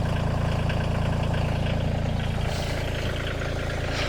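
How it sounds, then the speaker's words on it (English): A tractor engine idles close by while logs are hauled from a wooded pasture, a steady low chugging rumble with even pulses and no talk. "I'm gonna leave the tractor here idling."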